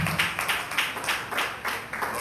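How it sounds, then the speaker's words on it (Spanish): A church congregation applauds during a service, a moderate, steady wash of many hands clapping with rhythmic pulses, fairly faint and heard from within the room. "Un aplauso al Señor Jesús."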